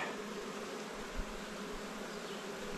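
Italian Cordovan honey bees buzz at a hive frame after wintering, a dense, steady swarm drone close by with no pauses and no voices.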